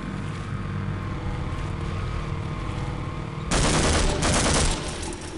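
Sudden burst of heavy automatic gunfire in the Half-Life video game, a loud sustained volley cutting in over a steady rumbling game background and running for about a second before easing off.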